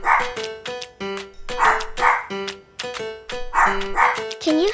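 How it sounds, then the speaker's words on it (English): A dog barks repeatedly in quick bursts, close and clear, with short pauses between the barks and a higher yelping tone at the close. "Can you help me find the dog?"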